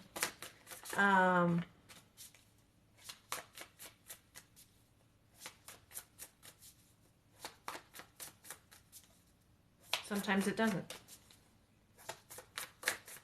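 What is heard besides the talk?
shuffling a deck of cards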